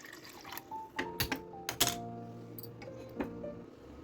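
Water poured into a vessel in a home kitchen to be heated, a few splashing pours and clinks of a pot or cup, close and moderately loud, with no talking.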